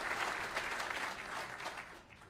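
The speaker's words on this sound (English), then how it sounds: "I'll clap to that." An audience applauding at a Veterans Affairs clinic opening, a full burst of clapping from many hands that holds steady and then tapers off near the end.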